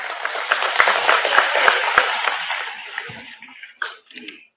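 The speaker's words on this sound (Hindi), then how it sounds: "बहुत ही जोरदार तालियां देवियों सज्जनों" Audience clapping at an outdoor government village programme launch with a visiting minister in Kibitho, Anjaw district, Arunachal Pradesh, a dense wash of applause with a few sharp claps that fades toward the end.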